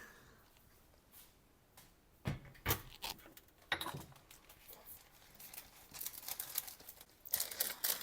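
Sheets of parchment paper crinkle and rustle as they are laid out on a metal baking tray, with soft scattered handling sounds and occasional light taps on the tray.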